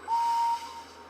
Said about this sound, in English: Let me whistle now.